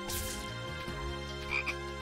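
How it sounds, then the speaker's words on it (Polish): Frogs croak in the video game Youyou Kengeki Musou, a steady layered chorus of game audio with a couple of brighter chirps near the end, with no talk. "Czemu to jest tyle żab?"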